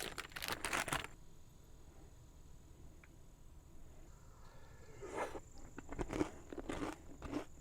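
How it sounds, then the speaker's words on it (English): Crisp, close crunches of a corn chip eaten with chili, an opening burst of bites, then a quiet pause before several more chewing crunches. "I think I gotta try this with a corn chip."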